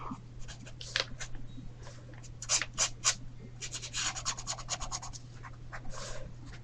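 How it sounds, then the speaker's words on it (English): Pencil scratching and rubbing across paper while sketching loosely, mostly white paper left bare; a steady run of soft strokes with a few brisk, louder scribbles in the middle, close and alone. "just start to sketch in some different things while like kind of using the white of the paper"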